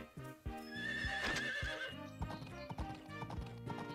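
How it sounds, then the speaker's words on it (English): Horse hooves clip-clop in a quick, steady rhythm in the farming video game Story of Seasons: Pioneers of Olive Town, with a bright whinny rising above them early on. "let me grab my horse"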